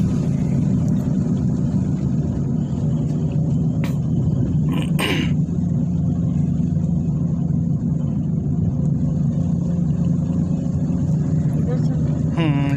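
Car engine droning steadily while being driven slowly on a road during a driving lesson, a continuous loud rumble throughout with a couple of brief clicks or knocks.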